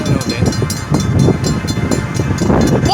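A train rolls past at close range at milepost 156, a steady loud rumble of wagons with rhythmic clacks and a brief squeal near the end, with no voices over it.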